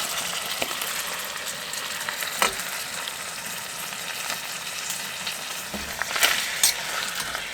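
Sausage and diced tomatoes fry in a pan inside a hot tent during -32C winter camping, with a continuous close sizzle and crackle plus occasional stirring scrapes.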